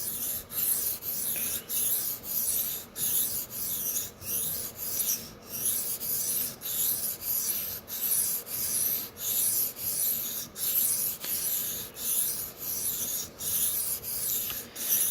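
Close, rhythmic rasping strokes of a Sabatier paring knife worked back and forth on a whetstone, about fifteen to twenty even passes with brief gaps between them, no talking.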